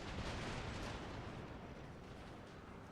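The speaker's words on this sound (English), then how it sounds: "Okay, we're waiting for 1 more cannon to fire." Cannon fire from a strategy war game battle at Philadelphia, a loud dense rumbling blast that fills the span and slowly fades, with no clear separate shots.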